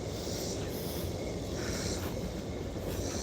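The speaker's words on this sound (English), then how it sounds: "that is one of the very few trains that actually runs through this area." A distant train rolls past with a steady, low rumbling clatter that carries across mountainous terrain, continuous and moderately loud.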